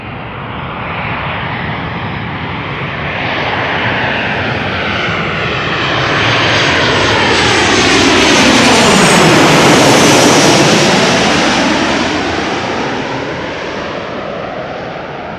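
An airliner arriving at Amsterdam Schiphol Airport passes close overhead, its loud jet roar swelling to a peak and sweeping down in pitch as it flies by, then easing off.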